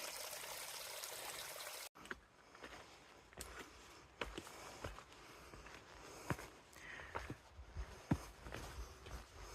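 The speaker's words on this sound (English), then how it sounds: "We've got quite a lot of water running down the trail today." Water trickles down a muddy mountain hiking trail on the Appalachian Trail near Moosilauke, a faint steady stream heard close by amid crunching footsteps and scattered knocks as a hiker walks, after a brief louder rush at the start.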